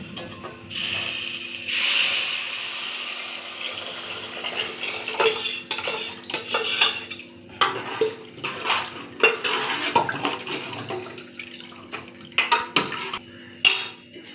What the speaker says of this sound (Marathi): आता आपण याच्यामध्ये टाकून घेणार आहोत डाळीतनं काढून घेतलेले येळवण्याचे पाणी